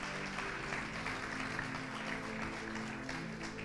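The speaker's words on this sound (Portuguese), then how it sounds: "Você pode dar uma salva de palmas ao Senhor por causa disso?" A church congregation claps in praise during a sermon, a quiet, even spread of many hands clapping at some distance, with low hum underneath and no clear talking.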